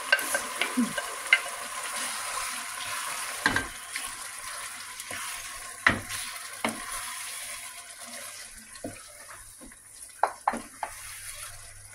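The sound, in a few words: chicken frying in pan with tomato, being stirred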